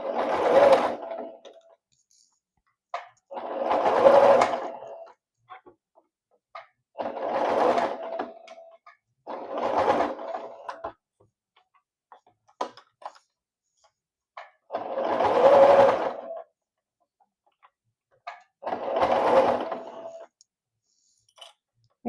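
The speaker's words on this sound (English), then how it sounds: "we're just gonna sew all the way across" A sewing machine stitches across the band of a scrub cap in six separate bursts of steady running, each a few seconds long, with short quiet pauses between them as the fabric gathers are adjusted; no one speaks.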